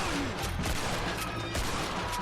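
A double barrel shotgun firing in Red Dead Redemption amid a loud gunfight, several sharp blasts scattered over a dense background of shots and noise.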